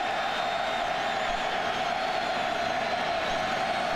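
A college football stadium crowd at Wisconsin versus Iowa roars in a steady, distant wash of cheering with no clear peaks, even and continuous throughout.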